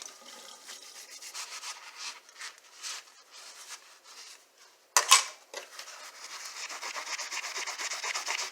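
A soft sponge scrubs the front of a 2007 Toyota XV40 Camry grill emblem with steady, close rubbing and squeaking strokes, broken by a sharp clatter midway, with no talking.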